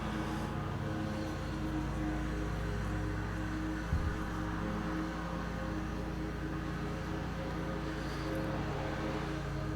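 A loud lawnmower engine drones steadily in the background throughout, a constant motor rumble with a brief thump partway through and no speech.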